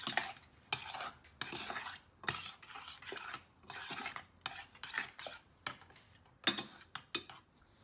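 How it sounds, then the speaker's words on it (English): Gram flour is whisked into yogurt for kadhi in a bowl, a string of close, brisk scraping strokes in uneven bursts separated by short pauses, with a sharper clink near the end and no talking. "I'm gonna mix it again."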